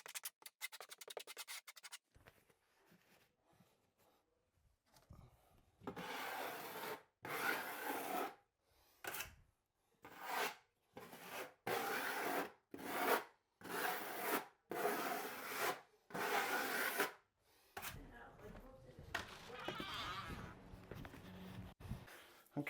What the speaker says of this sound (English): So all you do is thin set this into place.